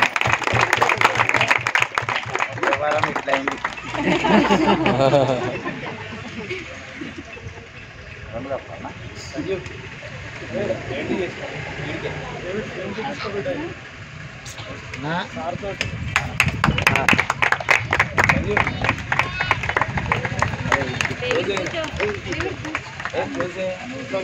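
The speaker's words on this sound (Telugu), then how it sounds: "గట్టిగా చెప్పట్లు." A crowd at a choir program bursts into loud, rapid clapping, which fades back behind someone speaking before building again into a second strong round of applause mixed with talk.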